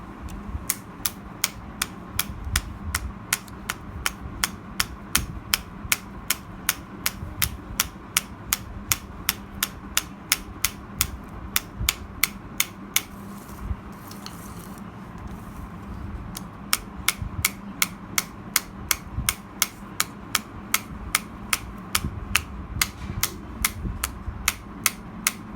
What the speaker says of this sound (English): continue hammering the end side of the sheet metal to get a full fold.